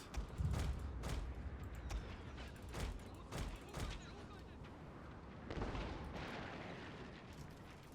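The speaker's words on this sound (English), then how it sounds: "One long, quick barrage should do it." An artillery barrage in the video game Shogun 2 Total War, with a series of dull booms and rumbling impacts rolling over a dense battle din, close and fairly loud, while people talk over it.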